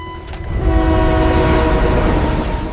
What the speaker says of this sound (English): How do we stop the train?